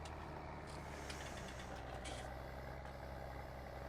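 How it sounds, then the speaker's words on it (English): A tractor engine in Farming Simulator 19 hums at a steady idle, a constant low drone with faint higher texture, quiet and unbroken throughout, with no talking. "Thankfully, I've been driving this tractor for a couple of years now, and I'm more used to its foibles."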